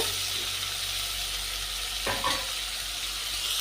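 Steady sizzling of vegetable pieces frying in a pan for a Telugu sour curry with tomato, stuffed eggplant and gongura, continuous and close, with a brief stir or scrape partway through.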